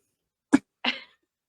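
A person gives two short coughs, the first sharp and abrupt, the second a slightly longer, rougher burst, close to the microphone in an otherwise quiet room.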